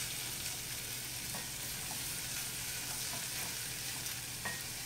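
Gluten- and dairy-free cream of mushroom soup cooks in a pan, a steady broad sizzle with occasional soft scrapes of stirring, close and even, with no talking.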